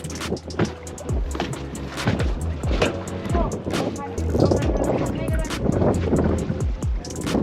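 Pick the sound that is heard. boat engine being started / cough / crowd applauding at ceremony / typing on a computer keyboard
boat engine being started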